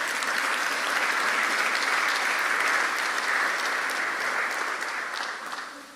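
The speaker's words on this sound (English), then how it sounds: "Please clap for that." Audience applause at a university event introducing a new athletic director, loud sustained clapping from a large crowd that fades slightly toward the end.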